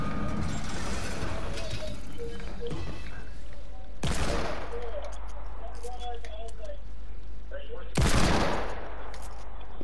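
Hand cannon shots in the Fortnite video game ring out as sharp, loud blasts roughly every four seconds over constant game noise, while players talk throughout.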